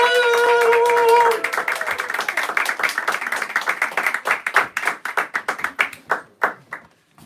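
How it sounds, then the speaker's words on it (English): A comedy club audience claps steadily in a dense patter that gradually thins into scattered, separate claps toward the end, with a voice briefly heard at the start. "Clap it up for yourselves."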